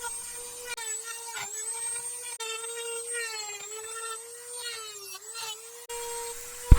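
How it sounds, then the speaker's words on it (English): A Dremel 3000 rotary tool run off a foot pedal carves detail into a 1x8 wood board, giving a steady high whine that wavers slightly in pitch as the bit bites, close and continuous throughout. "I'm using the Dremel 3000 right now, and I'm also running it off of a foot pedal"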